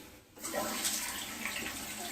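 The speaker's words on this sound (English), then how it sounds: "So I'm going to turn the water back on." Toilet tank refilling after the water supply is turned back on, following a new flapper and an adjusted chain; a steady close hiss of rushing water runs through the fill valve without a break after a brief quiet start.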